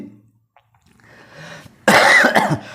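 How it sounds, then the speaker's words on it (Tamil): A loud, harsh cough bursts out after a quiet stretch of faint breathing, followed by a rougher throat-clearing rasp. "அதனால் இருமல் வருது வரட்டும் வரட்டும்"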